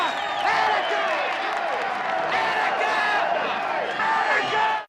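A film crowd from Dog Day Afternoon roars and cheers loudly and continuously, with shouts and whoops rising over a dense wall of voices for the whole stretch before cutting off abruptly at the end.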